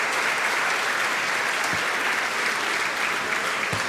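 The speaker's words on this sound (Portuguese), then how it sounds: "Vamos aplaudir o Senhor" A church congregation at a communion service breaks into steady, dense applause, many hands clapping loudly and evenly throughout with no pause.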